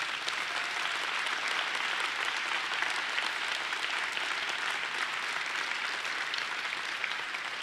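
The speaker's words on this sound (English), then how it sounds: "deserve your applause" Steady, broad applause from a large crowd at a city State of the City address in Denver, an even wash of many hands clapping without pause from start to finish.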